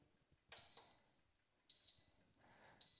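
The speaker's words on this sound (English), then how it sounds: "Let's see what he does when he just hears the beep of the e-collar." A dog e-collar gives out three short, high electronic beep tones at steady intervals. Each one is bright and piercing against a quiet background.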